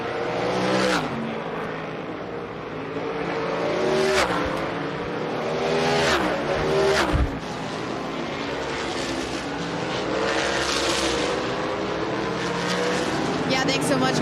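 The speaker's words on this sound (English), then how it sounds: "A couple of hot laps here to get everybody warmed up, get some heat in the tires before we go green." Winged sprint cars circle the track on warm-up hot laps before the heat race, engines droning loud and continuous with rising and falling passes as cars sweep by, an announcer's voice talking over the roar.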